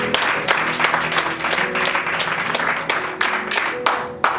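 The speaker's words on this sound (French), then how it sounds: "Alors encore une fois, acclamez pour Shobi." Church congregation applauding a member named Shobi during a sermon, steady dense clapping with sharper bursts at intervals and faint musical tones underneath, no talk.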